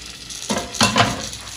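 Chipotle chiles, tomatoes and garlic browning in a pan give a close, soft sizzle, broken by a few short scraping stirs.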